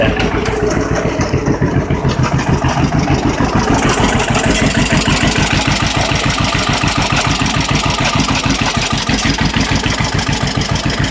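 An old tractor with a PTO and a partly clogged sediment bowl idles steadily, its engine throbbing in a fast, even rhythm that is loud and close throughout.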